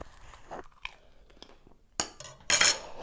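Someone bites into fried cheese pierogi with crunchy outsides, producing a few sharp, close crunches and quieter chewing sounds in short irregular bursts.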